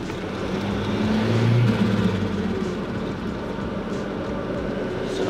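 A turbocharged car cruises at quarter throttle, giving a steady engine drone with a brief swell of whine partway through before settling into an even hum.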